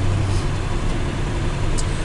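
An International Harvester 4219 forestry truck pulling out, its engine giving a steady, broadband diesel rumble throughout, close and fairly loud with no change in pitch.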